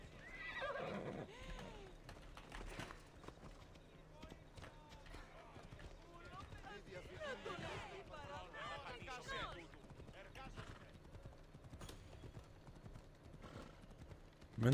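A horse in Assassin's Creed Odyssey gallops with a rapid clip-clop of hooves and gives a loud whinny near the start, set among game effects and quiet background sound.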